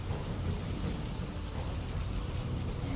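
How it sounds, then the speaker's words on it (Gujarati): Unseasonal rain falls during the height of summer with thunder, a dense, continuous roar of heavy rain and low rumbling that stays steady throughout. "ભર ઉનાળે ગાજવીજ સાથે વરસાદ પડ્યો છે."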